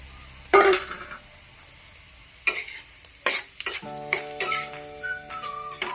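Smashed potato with turmeric sautéing in a pan, a quiet background sizzle broken by several loud scraping stirs of a spatula, plus a brief tonal whine near the end.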